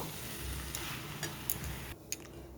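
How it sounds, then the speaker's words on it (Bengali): Vegetables stirred in a pan with only the water they release, for a plain no-spice vegetable curry; a soft damp simmer runs throughout, broken by a few light scraping clicks of the spoon, close by and fairly quiet. "সবজিগুলো থেকে যে জলটা বেরিয়েছে তাই দিয়ে নেড়ে চেড়ে নিচ্ছি"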